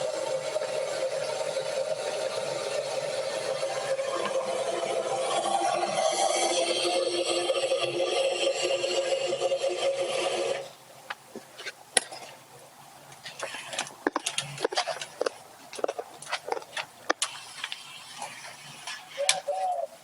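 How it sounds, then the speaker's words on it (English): A smoker's cook chamber is wiped down by hand: a steady, close scrubbing rub for several seconds, then quieter scattered taps and clicks. "just kind of wipe down the cook chamber, just like this"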